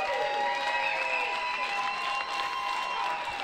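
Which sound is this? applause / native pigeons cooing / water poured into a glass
applause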